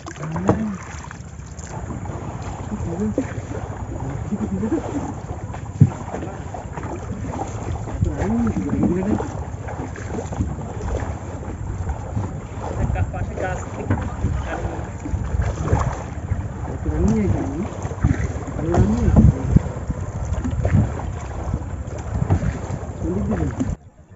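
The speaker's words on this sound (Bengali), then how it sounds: "একদম শাসা করে নৌকো চলে যাচ্ছে" A boat glides along a Sundarban river among mangrove trees, giving a steady wash of water and wind rumble with faint voices now and then throughout.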